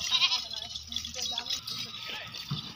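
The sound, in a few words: goat bleating on a farm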